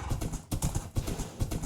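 Horse hooves clip-clop in Minecraft, a steady run of close, fairly loud thudding steps with a brief pause midway, no talk.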